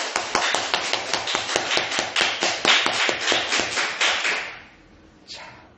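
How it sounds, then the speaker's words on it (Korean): Worshippers at a Wednesday prayer meeting clap together in a brisk, steady rhythm, about two dozen sharp claps that stop abruptly, followed by a faint tail and one last softer sound. "우리 하나님께 영광의 박수"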